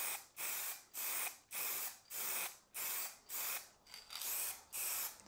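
Aerosol spray finish hisses in about eight even bursts of roughly half a second each, with short gaps between them, close and steady while a table is coated; no voices.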